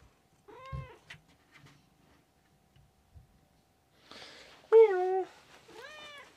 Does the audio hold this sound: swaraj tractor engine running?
no